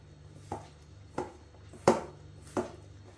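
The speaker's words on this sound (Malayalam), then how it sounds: "ഇനി ഇതെല്ലാം കൂടെ ആദ്യം കൈകൊണ്ട് നന്നായി കുഴച്ചെടുക്കാം." Thalipeeth dough of rajgira flour is worked by hand in a bowl, giving four separate soft thumps about two-thirds of a second apart over a faint low hum, close and fairly quiet.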